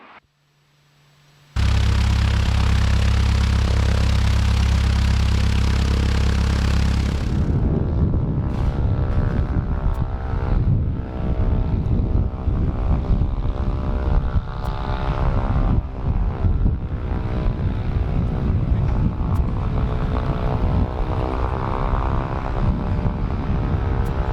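Diamond DA40-180 light aircraft engine cranking briefly with a steady tone, then catching into a loud, continuous propeller roar that settles into a rough, throbbing idle with wind buffeting the microphone throughout.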